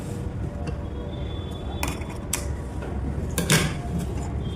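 A sewing machine stitching pintucks into fabric runs at slow speed, giving a steady close mechanical whir with faint creaks and a few brief clicks, with no talk over it.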